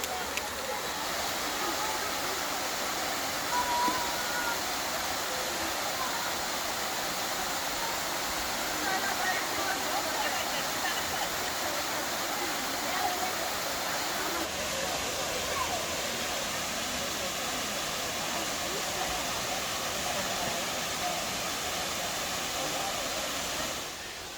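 Swollen river and waterfall in the Great Smoky Mountains after storms, a steady broadband roar of rushing water filling the whole stretch at constant loudness, with no clear talk standing out.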